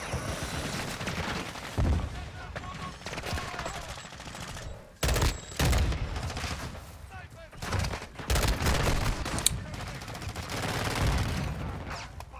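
Rapid gunfire from a PS5/PC video game, bursts of automatic shots and loud bangs coming in clusters with brief gaps, while a person talks over the shooting.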